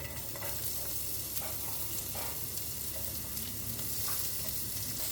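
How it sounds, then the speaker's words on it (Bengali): Chopped onions frying in ghee for a katla mandi dish, a constant soft sizzle and crackle close by, with occasional light stirring scrapes. "এরকম পর্যায়ে পেঁয়াজটাকে ভেজে নিতে হবে"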